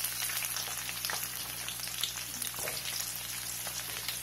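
Shallots hit hot oil with fennel for a Tamil ivy gourd fry, giving a loud, steady sizzle that fills the whole stretch without a break.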